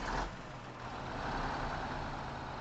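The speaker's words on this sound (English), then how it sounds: "so we need to start our engine" A truck engine in the off-road driving game MudRunner cranks and catches, then settles into a loud, steady, rumbling idle that holds close and constant.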